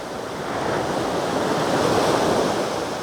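Surf breaks on Thomas Beach in Bali, a loud steady wash of waves rolling onto the sand with a swelling roar, mixed with wind noise on the microphone.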